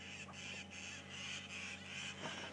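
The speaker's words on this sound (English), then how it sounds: "so you may hear some birds squawking." Harsh squawking alarm calls of Burchell's starlings repeat in a rough rhythm against a steady mechanical hum, fairly faint and somewhat distant, at sunset on a safari drive.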